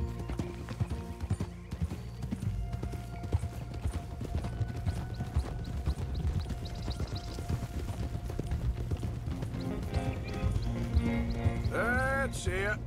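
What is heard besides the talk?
horse hooves and whinnying in video game Red Dead Redemption 2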